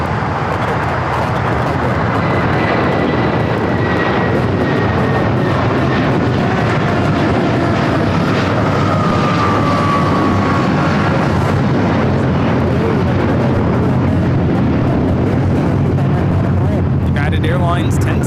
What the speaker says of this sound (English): Airlines 1069 taking off to Chicago on the 757-300.